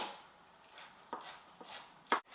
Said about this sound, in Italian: trito un bel po' di prezzemolo